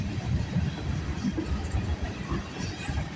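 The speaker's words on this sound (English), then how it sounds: "Oh, look at another GO train." A GO commuter train rolling past on the Oakville Subdivision railway near Burlington, a close, continuous rumble with rhythmic wheel clatter over the rails.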